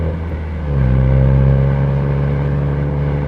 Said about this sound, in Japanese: ぐるっとワインディングでマフラーの音立ち上がりこういう音しますよ。